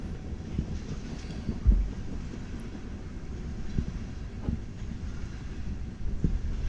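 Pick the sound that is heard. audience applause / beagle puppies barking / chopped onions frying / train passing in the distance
train passing in the distance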